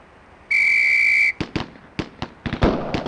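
In the 1995 police game Police Quest: SWAT, a single steady whistle blast lasting under a second is followed by a string of sharp pistol shots, some in quick pairs.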